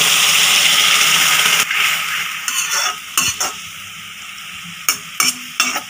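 Boiled, cooled milk poured onto carrots cooking in a pan for carrot halwa, a loud hissing rush that drops off after about a second and a half, followed by sparse clinks and clatters of a utensil on the pan.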